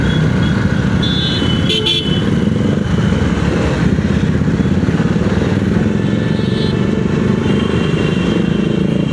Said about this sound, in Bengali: হর্ন মারছে।